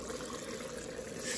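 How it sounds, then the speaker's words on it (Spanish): Water pours into a pot of stewing beef being cooked into carne guisada, a soft, steady trickling splash heard close up for a brief moment with no talk over it. "Vamos a agregar 2 tazas de agua o 1 y media"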